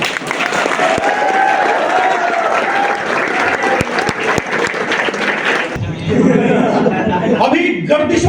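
The audience at a Hindi comic-poetry gathering applauds warmly with a few chuckles for about six seconds, then the clapping breaks off and a closer, louder sound takes over.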